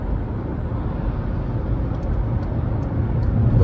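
Volkswagen e-Golf electric car accelerating at full throttle, a steady low road and motor rumble that builds gradually louder, heard from inside the cabin.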